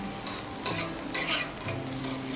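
Steaks and chicken thighs sizzle loudly on a Blackstone griddle, a dense continuous frying hiss up close with brief scrapes of a spatula, and no voices.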